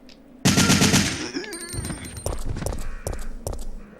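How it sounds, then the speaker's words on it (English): Rapid bursts of assault rifle fire in Resident Evil 3, a loud burst opening sharply and followed by several shorter staccato volleys with ringing in-game effects between them. "So I'm going to go ahead and equip the assault rifle."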